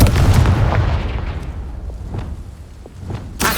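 A Confringo blasting spell explodes in the Hogwarts Legacy video game: a loud, booming blast opens the clip, its rumble and crackling debris fading over about three seconds before another sharp burst hits at the end.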